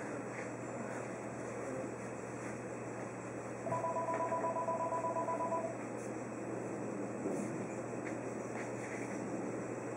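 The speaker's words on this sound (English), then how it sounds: "the phone is ringing." A telephone rings, a steady beeping electronic tone lasting about two seconds, heard in the middle of a constant hum of background noise.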